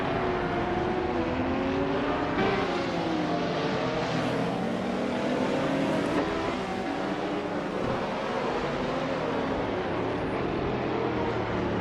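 Group C race cars, including a Sauber C9 and a Jaguar XJR5, racing on a track, with loud continuous engine drone and shifting revs as the cars power along.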